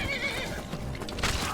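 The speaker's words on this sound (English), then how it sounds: "Wow, look at that horse." A horse in the video game Skyrim lets out a loud, wavering neigh that fills the moment, with hoof clops and game ambience mixed underneath.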